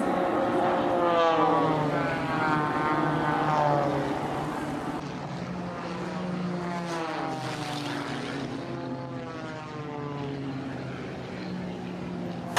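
A propeller-driven airplane in an air race, sweeping low toward the water, its engine drone wavering in pitch as it passes close and loud, continuous throughout without voices.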